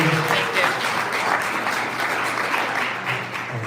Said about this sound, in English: And so again, a round of applause to Jen.